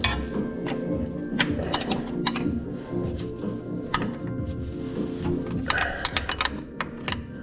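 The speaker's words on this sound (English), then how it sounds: "Grab that 9/16 wrench to hold the body again." A 9/16 wrench works a bolt on the body of a 1978 International Scout, producing close, irregular metallic clicks and ratcheting knocks over a low background hum.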